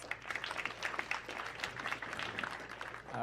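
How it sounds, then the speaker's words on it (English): Scattered applause from a small audience at a community board meeting greeting a Census Bureau speaker, a few seconds of light, uneven clapping in a room, fairly faint. "Let's give him a round of applause."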